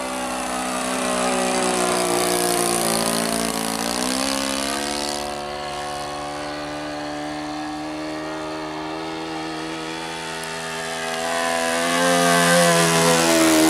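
A Saito 125A four-stroke glow engine drives a Great Planes Super SkyBolt RC biplane on its maiden flight, a loud steady buzz that rises and falls in pitch as the throttle changes, close by with no talk.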